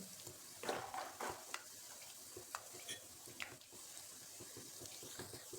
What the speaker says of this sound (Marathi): तेल तापलेलं आपल्याला हे आता शेंगदाणे घालायचे क्रिस्पी होईपर्यंत तळून घ्यायचे